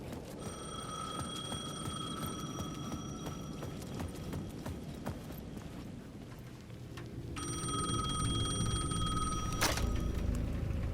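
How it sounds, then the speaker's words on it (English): A payphone bell in a video game rings in two bursts of rapid trilling, separated by a pause, over a faint background of rustling and clatter. "The payphone at the edge of the plaza was ringing again."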